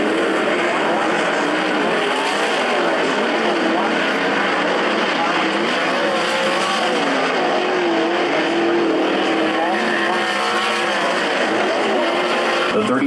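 Sprint cars race on a dirt oval during a heat with a seven-car field, engines roaring together in a loud continuous drone with a rising and falling pitch as the pack circles, and an announcer talks over it.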